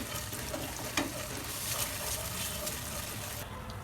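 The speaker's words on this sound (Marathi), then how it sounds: "अद्रक लसूण पेस्ट टाकून द्यायची. आणि चांगलं असं मिक्स करून घ्यायचं." Onion with ginger garlic paste fries and gets stirred in a pan for a chicken gravy, a steady close sizzle with light scraping, continuous throughout without speech.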